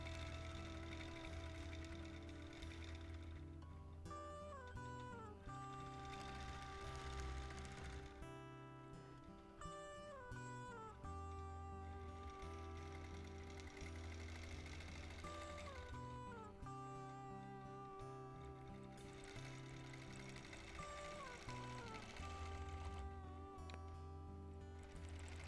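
A quilting machine stitching with copper-colored thread, running as a faint, steady mechanical hum with shifting whining tones, continuous throughout.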